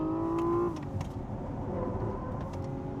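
Hyundai Ioniq 6 N electric car drifting on a closed development circuit, a synthetic rising engine-like tone cutting off abruptly as a simulated gear shift, followed by steady motor whir and tyre noise.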